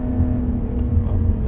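Lotus Evora 400 mid-engine sports car, a light 3,100-pound coupe, driving on the road: a steady, close engine hum with low rumble and a faint rising whir, no voices.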